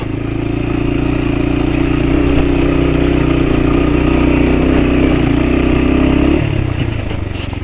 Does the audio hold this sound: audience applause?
no